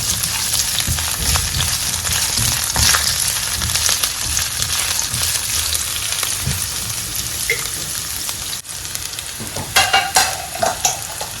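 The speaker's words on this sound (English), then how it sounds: "So I've added my olive oil to the pan. And I'll add some shredded onions." Shredded onions frying in olive oil in a pan, a constant loud sizzle with scraping stirs and occasional louder crackles and pops toward the end, no voices.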